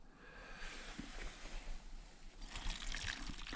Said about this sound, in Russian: Часть воды у нас пойдет в картошку.